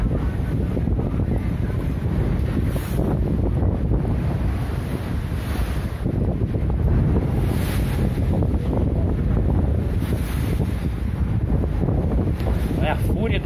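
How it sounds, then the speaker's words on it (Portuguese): Strong wind roars across the Amazon river as choppy waves churn and slap, a steady, loud, unbroken blast buffeting the microphone from start to finish. "É a fúria do vento."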